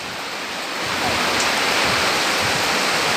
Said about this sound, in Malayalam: ഈ പ്രാവശ്യം ഭയങ്കര മഴയാണ്.